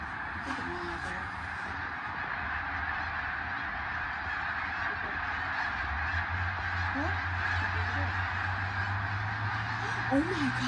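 Geese honk now and then against a steady outdoor hum, with a low droning engine-like tone entering partway through.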